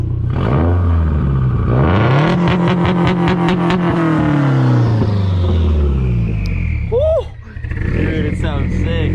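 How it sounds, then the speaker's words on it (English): A Subaru WRX STI engine revved repeatedly in quick bursts, each blip rising sharply and falling back, loud and close, followed by a brief quieter idle and faint voices near the end. "give her a little rev for us"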